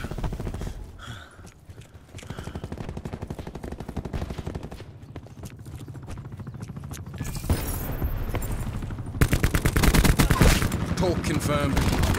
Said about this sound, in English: Hostile attack chopper inbound.